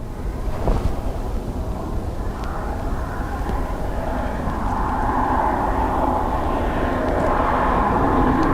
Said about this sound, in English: ATR next, coming from Liverpool.